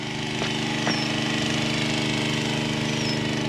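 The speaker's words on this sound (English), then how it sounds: "Hope you enjoy the lawn mowing next door." A lawn mower runs next door in Iowa, a steady, moderately distant engine drone with a faint rhythmic chatter that holds even throughout, a couple of brief higher ticks near the start, no speech.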